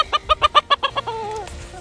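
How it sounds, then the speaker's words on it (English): A pet rooster clucks in a quick run of about eight sharp, close calls, ending with a longer drawn-out squawk that fades. "He's a rooster named Bonu."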